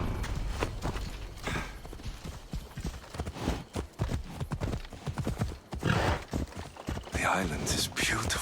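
Horse hooves clip-clop in a steady rhythm while riding in Assassin's Creed Odyssey, close and clear, with a whinny and spoken dialogue from characters over the hoofbeats.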